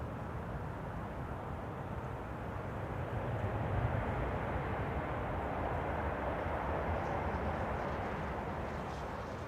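A 21-year-old Airbus A340-600 airliner at Schiphol gives off a steady, broad jet roar from a distance, swelling slightly partway through with no talk over it.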